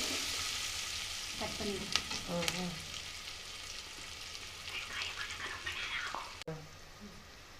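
Onions sautéing in a pan: a continuous soft sizzle with intermittent spoon scrapes and clinks against the pan, while someone talks briefly over it.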